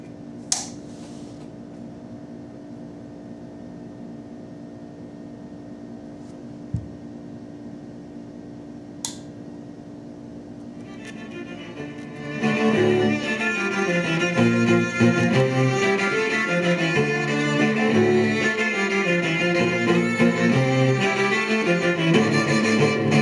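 Music from small thrift store speakers driven by an amp starts about halfway through, loud and full after a quiet stretch with a few faint clicks.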